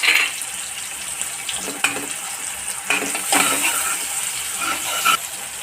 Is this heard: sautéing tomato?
yes